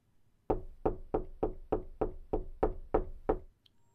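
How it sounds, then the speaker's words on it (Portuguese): A police officer knocks on a door, eleven firm, evenly spaced raps in a steady rhythm, close and loud against near silence. "um dos policiais criou coragem e bateu na porta."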